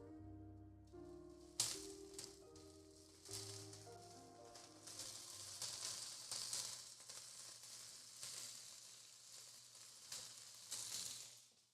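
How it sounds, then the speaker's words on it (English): Beef sizzles loudly in a hot pan, a dense continuous hiss and crackle that swells after an initial clatter and carries on steadily. "let me lean in so you can hear that sizzle"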